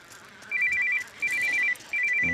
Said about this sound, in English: there's the missus ringing me